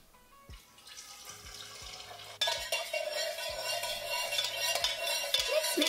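Candle wax mixed with fragrance oil is stirred in a container, sounding as close scraping and soft swishing that grows louder and busier midway, punctuated by light knocks.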